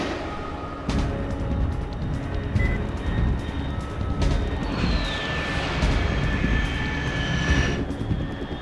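A fast jet roars loud and close in the Metal Gear Solid 3 video game, a steady broad engine rumble with sharp clanks and a rising whine as it passes overhead.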